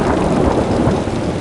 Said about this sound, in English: he sat all that night through a terrible storm. Lightning, rain.